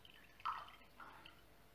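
A wet paper napkin is wrung out by hand, and water drips from it in two soft, brief splashes, faint and close, with no talking.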